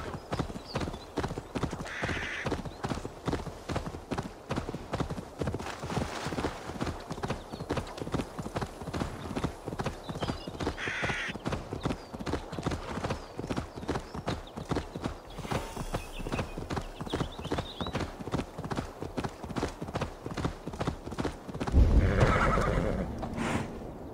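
A horse gallops in Assassin's Creed Valhalla, its rapid, even hoofbeats drumming close and steady throughout, with a few short whinnies and a loud neigh near the end.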